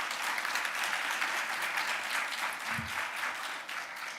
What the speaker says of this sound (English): So let's give a round of applause to Sharon.